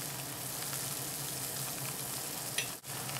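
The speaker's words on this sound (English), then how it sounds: "And here we are at a full-on boil. Big bubbles breaking the surface." Water at a full rolling boil in a kitchen pot, a steady, close bubbling hiss and burble that holds evenly throughout, with one brief knock near the end and no voices.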